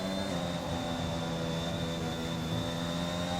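A steady, dense Formula 1 car engine roar from the game F1 2021 at Japan, with a thin high whine, runs unbroken throughout, loud and continuous with no voices.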